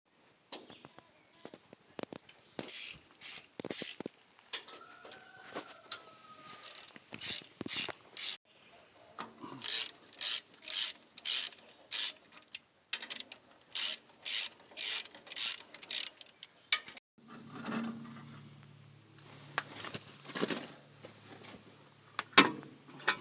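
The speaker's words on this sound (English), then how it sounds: "I think we're ready to loosen up the pump and actually drop the pump out" A ratchet wrench loosens the bolts holding the hydraulic pump on a Ford 8N tractor, giving bursts of rapid, close clicking with pauses between, then a metallic scrape and a final clunk.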